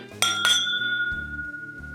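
Two bright glass clinks close together, drinking glasses touching in a toast with rum or rye whiskey, each leaving a clear ringing tone that fades slowly over a low background hum.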